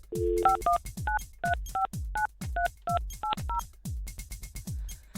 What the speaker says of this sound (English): Okay, I got to dial the number properly.